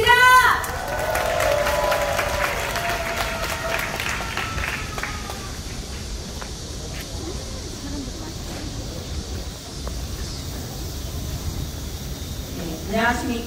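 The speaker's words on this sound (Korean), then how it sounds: "큰 박수 부탁드리겠습니다" Applause and crowd noise from an audience at an outdoor rally, sustained and fairly loud for several seconds before easing into a steady murmur, with a voice speaking over it near the end.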